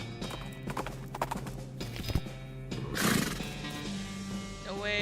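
Horses in the West of Loathing video game: rhythmic clip-clopping hooves with a loud whinny partway through, layered under game sound and background music.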